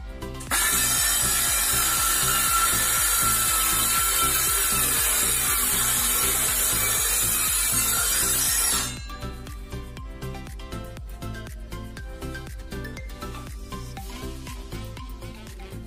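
Cordless Ingco CSLI1651 circular saw cutting through hardwood blockboard, a loud continuous high-pitched whine and rasp lasting about eight seconds, then the blade spins down to a quieter rattling hum.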